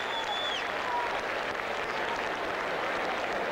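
Steady applause from the stadium court crowd at Flushing Meadow during a 1991 US Open quarterfinal tennis match, a dense even wash of clapping that holds for the whole stretch with faint whistles above it.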